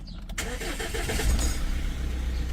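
A Mahindra Scorpio diesel engine cranks and catches near the mic, then settles into a steady, rumbling idle for the rest of the moment.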